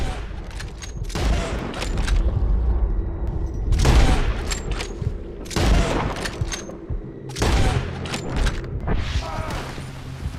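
Bursts of Red Dead Redemption 2 gunfire, several clusters of sharp, loud shots and volleys crackling in quick succession with brief pauses between, punctuated by mechanical clicks and reloading sounds.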